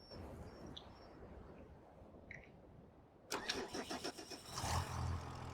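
A truck engine cranks and catches in Farming Simulator 25, a rhythmic starter chug building into a louder rumbling idle after a stretch of outdoor ambience with faint bird chirps.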